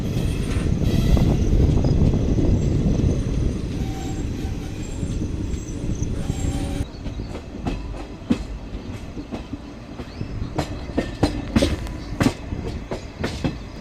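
Jabalpur Chanda Fort Superfast Express rolling on the Jabalpur–Gondia line past Kachpura, a loud continuous rumble from onboard with rhythmic clickety-clack wheel beats and sharp rail joints growing more distinct in the second half.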